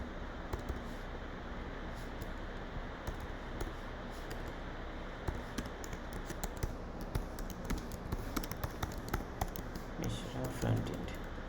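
Rapid, uneven clicking of a computer keyboard continues throughout while HTML code is typed, close and fairly quiet, with a soft background hiss. A person talks over the typing at times.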